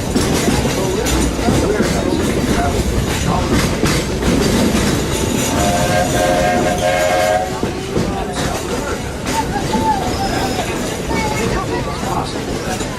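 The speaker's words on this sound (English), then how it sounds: "we're traveling on pure steam power" A steam locomotive on the Walt Disney World Railroad rumbles along steadily with rhythmic clatter and a brief whistle-like tone midway, while people talk faintly beneath it.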